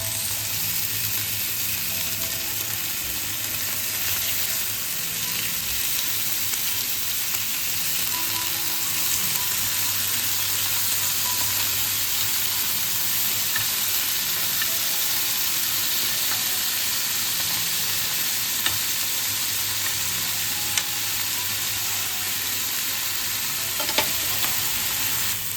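Honey chicken fries in hot oil in a pan, a loud, continuous sizzle and crackle with occasional small knocks and scrapes as the pieces are turned over.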